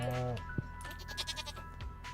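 In Stardew Valley, a goat or sheep gives one short, clear bleat at the start, followed by quiet game sounds and soft clicks.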